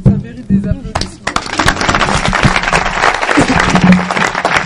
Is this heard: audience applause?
yes